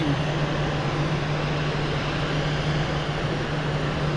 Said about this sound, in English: Its type is Boeing 77W.